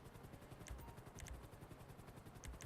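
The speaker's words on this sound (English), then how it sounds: "Helicopters, yeah." Very faint, rhythmic rotor thumping of helicopters in a GTA racing session, with a low pulsing beat and sharp, repeated clicking bursts over it, all quiet and distant.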